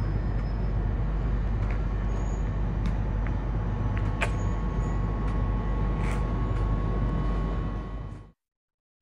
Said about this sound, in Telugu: ఇప్పుడే ట్రైన్ వస్తుంది